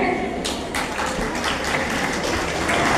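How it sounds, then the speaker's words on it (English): A school audience claps for a Grade eight student debater, a brief burst of scattered hand claps rising over a noisy hall with voices mixed in. "Clap your hands for her"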